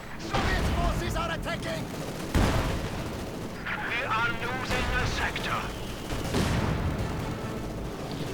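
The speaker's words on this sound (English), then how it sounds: "now actually taking fire from field guns" Field guns fire in a one-on-one wartime strategy game match, Soviet side against German forces, with heavy booms and crackling bursts of gunfire running steadily beneath continuous talking.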